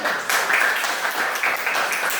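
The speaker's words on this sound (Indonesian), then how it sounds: "Minta tepuk tangan buat kita semua saya" A class of fourth-grade pupils claps together in a classroom, a steady, dense patter of many hands lasting a couple of seconds at moderate loudness.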